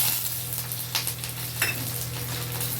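Black and white mustard seeds with green chillies sizzle and crackle steadily in hot oil for a tempering, a continuous close frying hiss with a few sharper pops and stirring scrapes.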